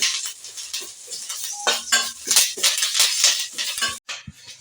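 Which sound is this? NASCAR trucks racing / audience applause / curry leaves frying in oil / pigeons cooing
curry leaves frying in oil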